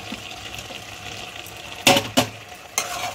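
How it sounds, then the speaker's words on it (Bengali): Stirring softened bottle gourd and fried potatoes together in a pan: low sizzling underneath, then three loud, quick scraping clatters of the spatula close by. "এবার এটাকে ভালোভাবে নেড়ে নেব"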